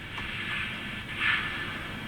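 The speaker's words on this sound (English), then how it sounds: "Function 2 is brake." A DCC sound-fitted Rapido 15xx pannier tank locomotive in OO gauge gives a brake sound, a soft hissing squeal with two brief brighter swells over a steady background hiss.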